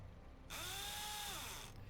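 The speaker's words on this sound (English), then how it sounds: "that robot has a drill for an arm" Robot's drill arm in the Underrail video game, a quiet whirring spin-up that rises in pitch, holds a steady mechanical whine for just over a second, then cuts off, alone without voices.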